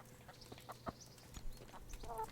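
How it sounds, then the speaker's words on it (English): Chickens in the medieval video game Kingdom Come: Deliverance, scattered soft clucks and short calls from a few birds, faint and irregular against quiet background. "Hello, chickens."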